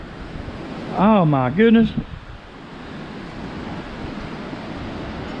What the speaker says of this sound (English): Boy, I tell you what, it's windy.